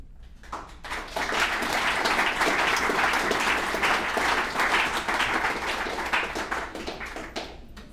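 Audience at a recovery-services alumni meeting applauds loudly, dense clapping rising quickly and holding steady for several seconds before easing slightly, heard up close in the room.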